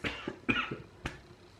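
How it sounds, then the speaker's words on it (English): A man coughs close by, three sharp, rough coughs spaced about half a second apart, alone with no talking. "That's why you're coughing"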